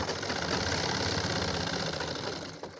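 A sewing machine whirs continuously while stitching the handle onto a handmade travel bag, a dense, close mechanical buzz at steady speed that slackens just before the end.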